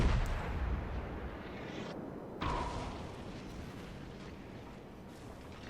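Heavy naval gunfire from a Des Moines cruiser in World of Warships, with booming salvos rumbling out into a long roaring decay, loud and close with no talk.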